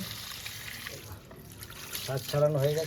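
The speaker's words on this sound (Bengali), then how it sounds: "শাকগুলো আমি ধুয়ে দিচ্ছি" Leafy greens for a Bengali punka shak dish being washed in water, a steady wet trickle and splashing that grows louder toward the end, with a person talking over it.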